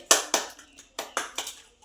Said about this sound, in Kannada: ಚಪ್ಪಾಳೆ ಚಪ್ಪಾಳೆ